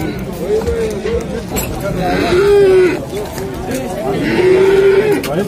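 Livestock market crowd with sheep and cattle: two drawn-out moo-like animal calls rise over steady crowd babble and talking, fairly close and loud.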